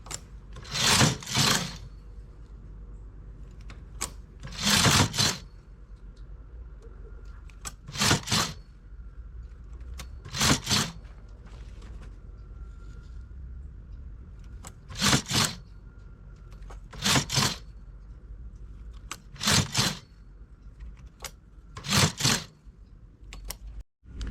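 A knitting machine works a sport collar, its carriage sweeping across the needle bed in repeated short mechanical rattling bursts every few seconds, with quiet gaps between passes.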